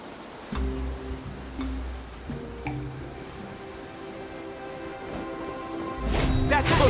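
Rain falls steadily in Genshin Impact, a broad hiss under low game music tones, swelling louder near the end.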